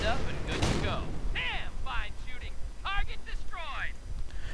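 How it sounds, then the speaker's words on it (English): Artillery barrage in a World War II strategy video game, with a heavy boom early followed by rumbling fire and whistling shells, all under steady voice chatter. "Another registered artillery barrage."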